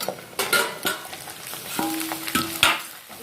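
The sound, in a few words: food cooking covered over a low flame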